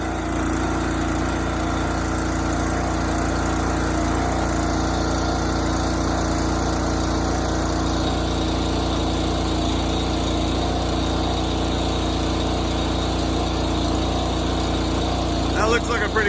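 A gas engine runs steadily on an Eastonmade Ultra log splitter fitted with a new muffler, a constant close droning hum that holds throughout without change.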